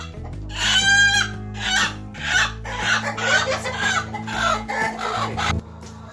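Chickens cluck and a rooster calls over a steady low hum, several birds overlapping nearby and fairly loud throughout.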